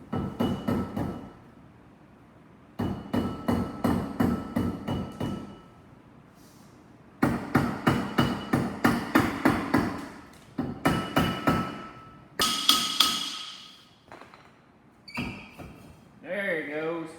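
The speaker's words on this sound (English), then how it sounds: "So we'll try on the rubber mallet first." Rubber mallet striking a seized, rusty brake rotor on a Camry during wheel bearing work, in loud, close bursts of rapid repeated thuds separated by short pauses.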